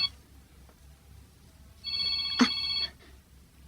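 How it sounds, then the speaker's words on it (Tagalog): A cellphone ringtone plays for about a second, loud and close, a bright repeating electronic tone rising out of a quiet room. "Ni Manong Reggie ti mawawag iti cellphone ko"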